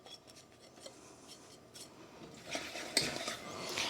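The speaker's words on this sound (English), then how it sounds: "I'm just going to constantly whisk them" Egg whites and granulated sugar are whisked in a double boiler, giving a faint, continuous scraping and clinking of a whisk against the bowl, growing a little louder toward the end.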